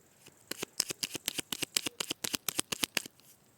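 A deck of tarot cards is cut and shuffled, giving a quick run of about sixteen crisp, papery flicks and snaps in a fairly steady rhythm, close and clear with no voice.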